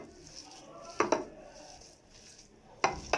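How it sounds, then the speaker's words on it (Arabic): Kefta tagine ingredients being mixed together, with a utensil clinking against a dish twice in quick pairs over a faint background hiss, close and fairly quiet, and no voices. "ومن بعد غادي نخلطو المكونات كلها مع بعض."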